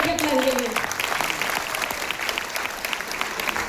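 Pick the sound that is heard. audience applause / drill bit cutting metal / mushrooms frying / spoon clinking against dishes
audience applause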